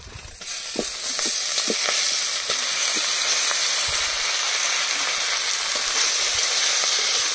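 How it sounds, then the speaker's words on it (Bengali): Taro flowers sizzle and fry in a pan with prawns already browned in oil, a steady loud hiss with crackling pops that continues throughout, with no voices over it. "চিংড়ি মাছগুলো লাল লাল করে ভেজে নিয়েছি, এবার কচুর ফুল দিয়ে দেবো"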